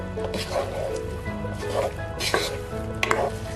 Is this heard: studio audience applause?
no